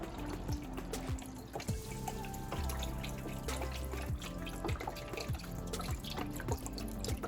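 Water runs from a tap close by while something is rinsed underneath, with dripping, splashing and occasional clinks over a steady flow.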